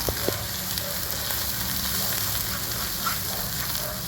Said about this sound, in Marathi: आज कमी करून मसाला छान हलवून घ्यायचा आहे।